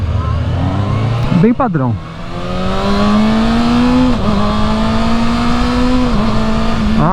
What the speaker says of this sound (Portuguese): para você ligar a moto